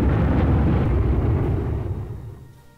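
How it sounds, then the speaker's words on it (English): Heavy rumbling explosions from a bombing run in the Panzer Corps war strategy game roar loudly at first, then fade away over a few seconds. "Nice bombing run."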